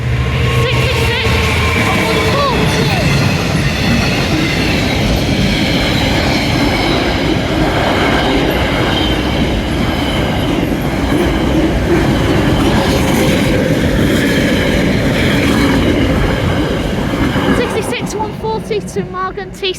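A Class 66 freight train passes Willaston level crossing in Cheshire, a loud, close, continuous rumble with rhythmic wheel clatter and metallic squeal, fading slightly at the end; voices can be heard beneath it.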